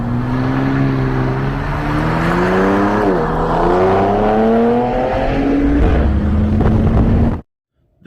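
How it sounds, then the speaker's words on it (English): A 6-cylinder TRX-version engine roars loudly and close, its droning pitch climbing steadily over several seconds, dipping briefly, then holding before cutting off abruptly into silence. "That is the 6-cylinder TRX version."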